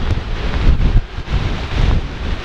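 Hurricane Beryl winds gust through trees along a flood-prone residential street in Braeburn Valley West, buffeting the microphone with a loud, uneven roar that surges and briefly dips, with no talking.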